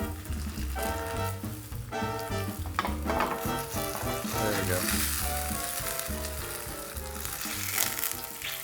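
Food fries and sizzles on high heat in a non-cast-iron pan where it has begun to stick, a steady crackle running throughout beside tonal background sound, with a brief spoken phrase near the start.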